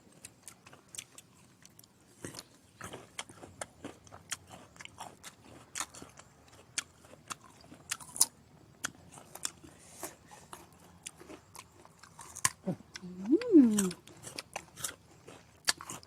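Crisp bites and crunchy chewing of Kim Ju guava dipped in chili salt, repeated crackly crunches spread across the clip, close and fairly quiet, with a brief voiced sound near the end.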